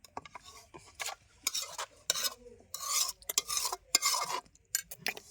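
A spoon stirs and scrapes in a pan as tomatoes go into fried chillies for a chutney, with repeated close, bright scraping strokes and faint sizzling between them, with no voices.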